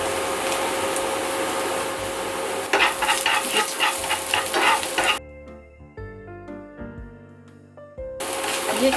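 Onions stir-fried in a pan with a little salt sizzle steadily under a spatula that scrapes and stirs in irregular strokes. Partway through the frying briefly gives way to a few soft tonal notes, then returns.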